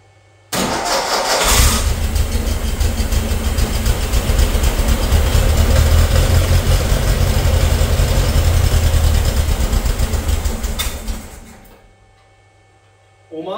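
A 1958 VW Beetle engine with the choke on cranks and roars loudly for about ten seconds after a sharp start, sputtering and straining without settling into an idle, then cutting out abruptly into near silence.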